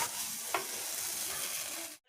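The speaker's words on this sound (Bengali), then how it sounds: "এখন মশলা ভাজছি" Spices fry in a pan with a brief, close hiss and one light stirring clink before the sound cuts out.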